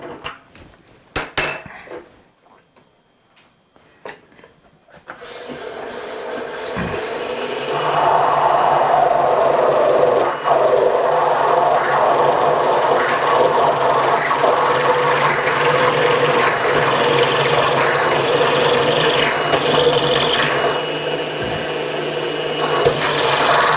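Drill boring a hole slightly under 5/8 inch through a steel hinge part for a bending brake base, a steady loud grinding rasp that runs continuously for about twenty seconds after a few faint knocks and a quiet start.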